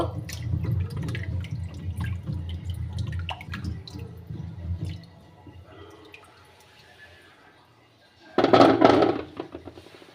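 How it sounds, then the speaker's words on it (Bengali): New potatoes are rubbed and washed by hand in water, giving soft sloshing and dripping at close range, a quiet stretch, then a short, louder splash near the end. "আমি আলুগুলো সুন্দর করে ডলে ডলে ধুয়ে নিবো"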